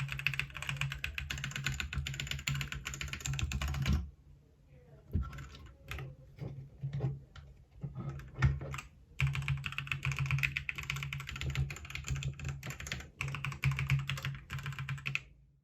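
Dense, steady typing on a mechanical keyboard lined with one layer of tape, a fast run of close keystrokes that stops briefly, resumes as scattered clicks, then picks back up into continuous clacking.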